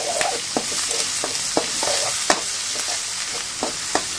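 Green chili, ginger, garlic and onion paste fries loudly in a pan for a country-chicken curry, with a dense close sizzle and repeated sharp scrapes of a spatula stirring it.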